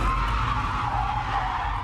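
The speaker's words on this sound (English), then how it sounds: "making impact before the car spins out of control" A car skids and spins out after a police PIT maneuver, a sustained loud tire-scrubbing roar over low engine rumble for about two seconds.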